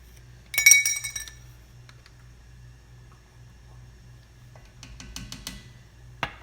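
A garlic powder container is opened in a kitchen: a sharp, bright clink and rattle of the lid near the start, then faint small clicks and taps in a quiet room with a low hum.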